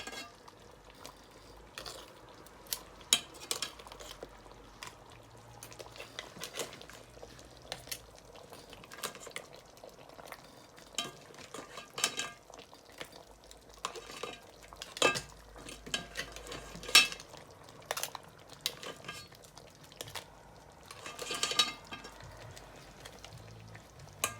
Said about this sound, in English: the crabs and the prawns and the mussels have been all steamed nicely. So we're going to add it in our ebbeh